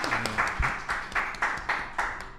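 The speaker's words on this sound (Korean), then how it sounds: "박수 부탁드리겠습니다" An audience applauds as a guest is introduced on a franchise business talk show: steady, rhythmic clapping at moderate loudness, with no talking.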